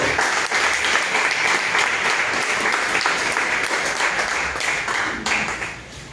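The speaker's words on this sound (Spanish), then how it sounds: "Dale un aplauso al Señor." A church congregation bursts into loud, sustained applause, a dense wash of many hands clapping together, steady and close, tapering slightly at the end.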